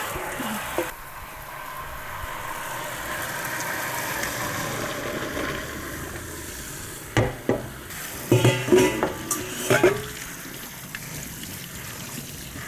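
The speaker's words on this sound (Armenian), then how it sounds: "պաստանից պատրաստ, արդեն սկսում ենք տապակել" Pasta frying in a pan with shrimp sizzles steadily and hisses broadly throughout, with a few sharp clinks and stirring scrapes of a utensil against the pan near the end.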